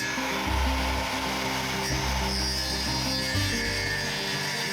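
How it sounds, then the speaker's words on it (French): Circular saw cutting notch kerfs into wooden beams, a steady close droning whine with dipping, rasping load changes as the blade bites through the wood, continuous and loud without speech. "Pour creuser ces encoches, j'utilise ma scie circulaire"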